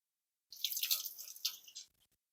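Water escaping from a loosened pump fitting, heard as a single close, splashy spatter of drips and trickling lasting just over a second, then stopping, with no voices.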